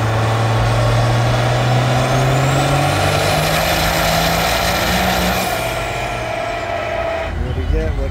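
A truck making a dyno run, loud steady engine drone with a rising high whine that peaks and fades, then a hiss like an air brake release near the end.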